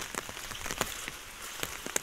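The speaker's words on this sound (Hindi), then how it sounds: "भाई, बहुत तेज़ बारिश हो रही है।" Heavy rain pours down outdoors in a steady hiss, with scattered louder drop hits spattering close by; no voices are heard.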